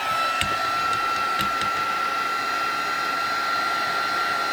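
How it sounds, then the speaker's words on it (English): Steady whirring blow of a heat tool drying ink on a handmade card, a constant high hum held throughout with a couple of faint clicks near the start, close and alone. "I'm actually going to quickly add a bit of heat to that to dry it a little bit"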